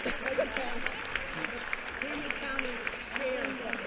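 Audience applause in a state House legislative chamber, a moderate rolling patter of claps with voices and chatter mixed in, fairly distant.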